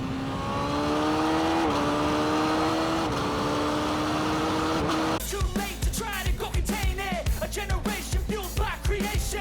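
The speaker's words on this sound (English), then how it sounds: "I'm riding with my Kawasaki Z900" A modified Kawasaki Z900 motorcycle with a Stage 2 ECU rides on the German Autobahn: a steady, loud engine drone rises in pitch through the gears, then breaks into rapid, choppy revving bursts.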